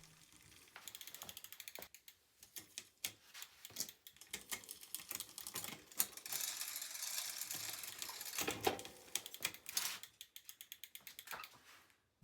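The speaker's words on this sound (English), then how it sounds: "Next, I turn the crank arms to make sure things spin smoothly." Bicycle crank arms are turned by hand on a rebuilt Specialized Hardrock, the chain and drivetrain ticking and ratcheting in quick, close, uneven bursts, quiet and without talk.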